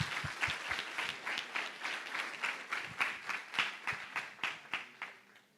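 A church congregation breaks into applause in worship, dense clapping with a few sharp nearby claps standing out, steady for several seconds before tapering off at the end.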